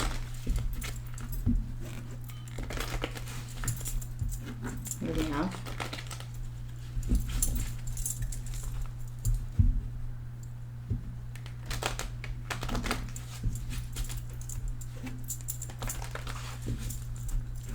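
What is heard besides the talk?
shuffling a deck of tarot cards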